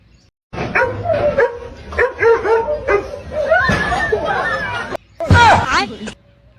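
A dog barks and yips repeatedly in short bursts, mixed with people talking and laughing close by in a comedy clip.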